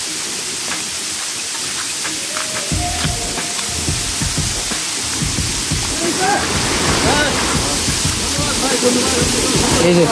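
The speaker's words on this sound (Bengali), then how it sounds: "ঝর্ণার কি শব্দ দেখেন, খুব সুন্দর শব্দ" Rushing water of a waterfall in a hilly area, a steady hiss that grows louder toward the end, with people talking and chattering over it.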